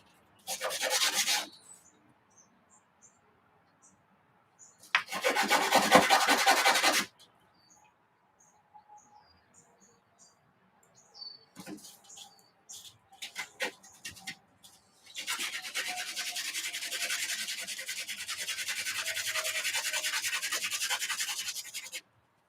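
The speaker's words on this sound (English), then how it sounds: "Take some sandpaper. Lay it on a flat surface." A buggy engine part rubbed on sandpaper laid on a flat surface, giving loud rasping back-and-forth scrubbing strokes in several bursts, separated by quiet pauses and a few light clatters, close by.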